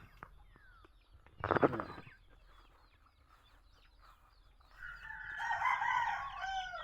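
Fighting cocks crow, one loud nearby crow early on and then a longer, busier burst of crowing and clucking toward the end, with faint farmyard birdsong between.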